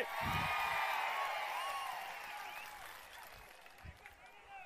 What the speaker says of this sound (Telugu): గట్టిగా చప్పట్లు కొట్టి నిరసన తెలియజేయండి.